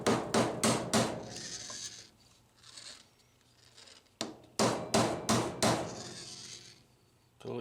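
A hammer driving a pin into a Dixie Narco vending machine rotor: two bursts of four or five sharp metallic strikes, close and loud, separated by a quieter pause.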